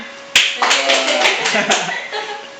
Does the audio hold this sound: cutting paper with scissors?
no